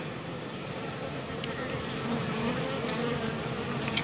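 Asian honey bees (Apis cerana) hum continuously, a dense, steady buzzing from many insects close by at a hive during flowering season, with no talking.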